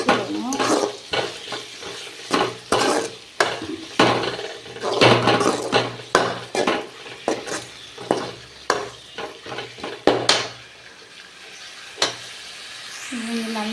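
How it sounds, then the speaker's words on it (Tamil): Curry leaves, coriander and mint are sautéed in a pan, with rhythmic scraping and tapping stirring strokes over a light sizzle, close and fairly loud, fading near the end. "கொஞ்சம் கருவேப்பிலை, கொஞ்சம் மல்லி, கொஞ்சம் புதினா, அவ்வளோதான் ஃப்ரெண்ட்ஸ். நல்லா நம்ம வதக்கிடணும்."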